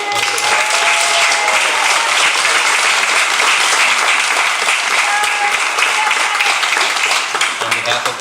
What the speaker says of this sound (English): I wanted to get that out early so I could get more applause, maybe.